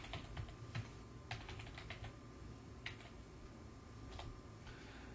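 Someone types on a computer keyboard to fill in form fields, giving quiet, irregular clusters of key clicks over a soft steady background hum.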